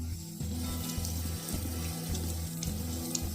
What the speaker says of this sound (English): Now we're going to wash it, we're going to rinse it